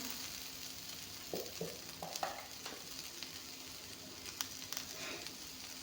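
Onions frying in a pan, a quiet, steady sizzle with a few soft stirring scrapes and taps of a spoon, close by and without speech.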